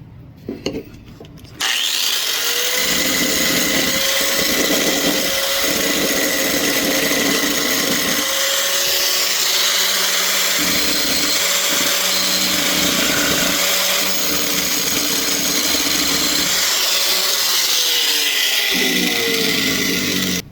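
A grinder wheel bites into a piece of steel for a spark test, giving a loud, continuous abrasive grinding whine that starts after a brief moment of quieter noise and carries on to the end.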